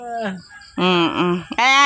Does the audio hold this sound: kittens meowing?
no